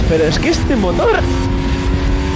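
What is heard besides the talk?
motorcycle accelerating out of a curve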